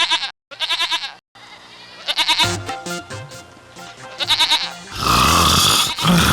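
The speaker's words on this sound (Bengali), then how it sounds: "এই ছাগলগুলো এরকম চিৎকার করছে কেন?" Cartoon goats bleat loudly in repeated bursts, several close, harsh cries in quick succession, ending in a noisy, rough stretch of sound.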